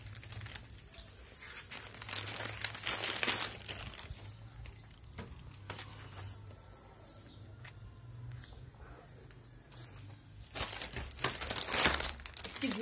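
A plastic bag is crinkled and handled nearby during a taste challenge, giving bursts of rustling that rise, ease off in the middle, and return louder near the end, with a low steady hum underneath.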